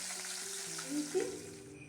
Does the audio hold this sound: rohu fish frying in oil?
yes